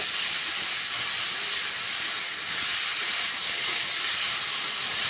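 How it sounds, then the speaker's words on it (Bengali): Ridge gourd fries in a pan with salt and turmeric over a medium flame, making a steady, close hiss that runs on with no voices. "লবণ দিয়ে হলুদ দিয়ে সবজিটাকে একটু ভেজে নেবে।"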